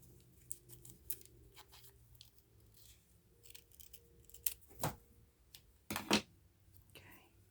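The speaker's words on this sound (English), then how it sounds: "Let me get this tag off because that's going to annoy me." Scissors snip a tag off a sock in a few quiet, close cuts, with two sharper snips standing out near the end over soft rustling handling.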